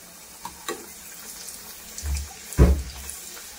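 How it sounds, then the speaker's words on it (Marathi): Puris are dropped into hot oil to fry, with a few brief close splashes and bursts of sizzling over a quiet kitchen background, the largest burst near the end. "गरम तेलामध्ये अशा पुऱ्या सोडायच्या"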